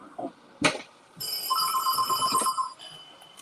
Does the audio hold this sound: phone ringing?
yes